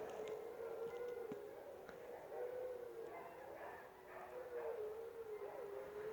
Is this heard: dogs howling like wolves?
yes